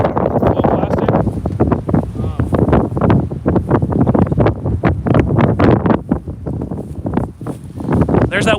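Strong gusting wind on an open disc golf course in roughly 25 mph conditions, buffeting the microphone with loud, continuous rumbling bursts that swell and surge throughout.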